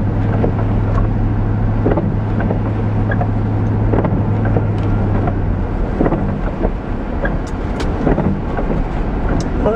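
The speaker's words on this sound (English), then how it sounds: "Sorry about the wiper noise" Steady in-car road rumble and wind with a rhythmic swish recurring through the clip, like windshield wipers sweeping back and forth, no talking.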